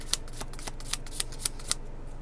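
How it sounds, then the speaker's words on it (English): A tarot deck being shuffled by hand at close range: a run of crisp, sharp card snaps and riffles, several distinct clicks spaced irregularly over a soft papery rustle, alone without talk. "Why are these so hard to shuffle?"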